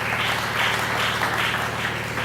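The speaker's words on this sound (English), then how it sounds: "I believe we can just clap for that." An audience at a first-year anniversary event for an entrepreneurship organization claps and applauds in a steady, dense wash of hands that holds evenly throughout.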